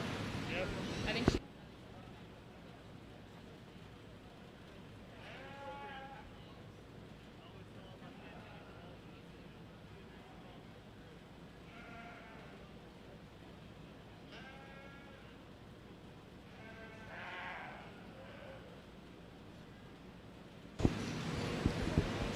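Sheep and goats bleat now and then at a county fair livestock show, each cry fairly distant and wavering, while a voice talks over a steady hall murmur.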